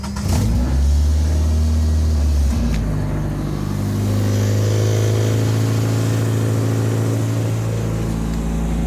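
A Suzuki Samurai with a 1.6 throttle body injected engine replacing the original 1.3 carbureted unit, running close and loud with a steady humming drone that shifts pitch slightly after a brief throttle change early on.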